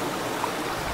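A mountain stream flowing near an isolated La Hu village in Vietnam, heard as a steady broadband rush of water with no talk over it.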